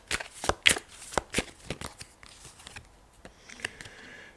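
Tarot cards are shuffled by hand in quick, crisp riffling bursts and soft slaps, close and fairly quiet, tapering into lighter rustling toward the end.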